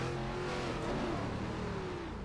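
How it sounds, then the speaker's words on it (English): A race car engine revs hard at a BRB Sundance Pro Series S6 event in Mexico, with a loud steady drone and a pitch that climbs and falls while the throttle is held open. No one speaks. "Listen to the engine, listen to the RPM, Zach."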